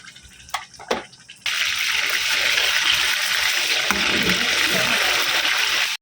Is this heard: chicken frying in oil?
yes